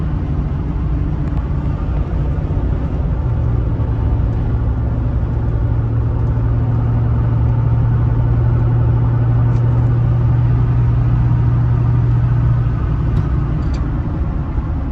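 Ford Super Duty pickup truck cruising in high gear, a steady loud engine and road rumble throughout with a faint low drone rising midway, no voices.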